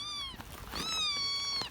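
A cat meows twice, close by: a short high mew, then a longer drawn-out meow after a brief pause. No talking.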